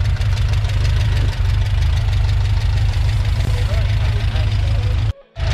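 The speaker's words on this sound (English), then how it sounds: "So it's got a 1935cc Volkswagen engine." A 1935cc Volkswagen engine in a fiberglass Meyers Manx off-road buggy idles loudly and close with a steady low rumbling chug, cutting out briefly near the end.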